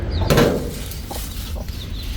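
A few soft, low clucks from chickens nearby in a garden, with a short rustling burst at the start and quiet background noise.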